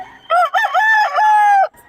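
A rooster crows loudly and close by, one long drawn-out cock-a-doodle-doo call standing alone.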